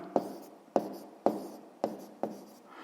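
Pen or pencil strokes on paper as a maths answer is written down, five short scratchy bursts at an even pace, close and quiet with no talking.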